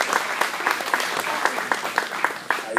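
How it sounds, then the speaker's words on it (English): Steady applause from a crowd at a chamber of commerce meeting, dense clapping with a few louder individual claps standing out, continuing throughout. "Give him a round of applause."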